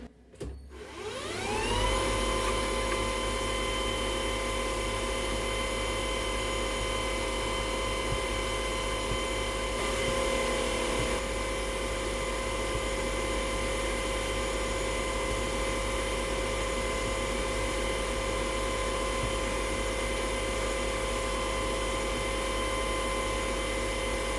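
A lathe drills into a titanium screw blank, the drill fed by the carriage, giving a steady high-pitched motor whine with a sustained tonal hum, close and continuous for the whole stretch, with no voices.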